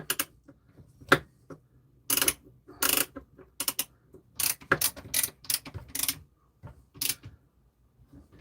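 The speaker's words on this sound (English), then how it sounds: "Come on, ratchet." Ratchet clicking in uneven bursts while sharpening a chainsaw chain, sharp broadband clacks with pauses between, close and fairly loud, no talking.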